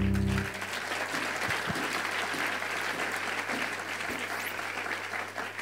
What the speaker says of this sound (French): On peut l'acclamer, pourquoi pas?